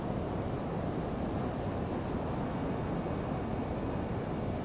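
Learjet 35 jet engines drone steadily in a flight simulator game, a loud, constant broadband roar with no variation and no voices.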